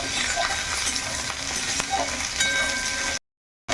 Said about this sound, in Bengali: এখন পেঁয়াজ আর রসুনটা বেশ ভালো করে ভাজা ভাজা করে দিয়েছি